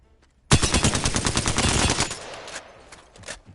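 A gun in Apex Legends fires a fast, loud automatic burst of about one and a half seconds that starts abruptly, then fades into reverberant tail and a few mechanical clicks.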